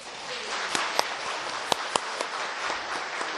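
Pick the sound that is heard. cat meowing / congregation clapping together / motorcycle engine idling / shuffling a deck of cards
congregation clapping together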